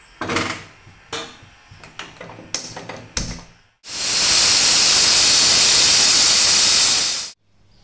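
Pressure cooker cooking potatoes in water: a few sharp clicks and knocks, then a loud, continuous blast of hissing steam as the whistle releases for several seconds before cutting off abruptly.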